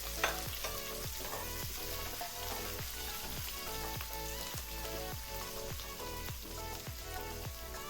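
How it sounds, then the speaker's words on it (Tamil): Onions and chana dal sautéing in a pan give a steady, soft sizzling hiss that sits beneath louder rhythmic background music with a regular beat throughout. "வெங்காயமும் அது கூட ஆட் பண்ணிக்கிறேன் இதை நல்லா வதக்கி விட்டுக்கணும்"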